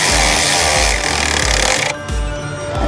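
A cheap Temu ratchet snugging bolts on the alternator of a 2007 GMC Envoy, with loud repeated clicking strokes in an uneven rhythm, close and mixed with music playing in the background.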